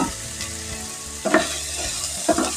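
Red and yellow capsicum with onion frying in a pan, a close, steady sizzle with two bursts of stirring clatter partway through.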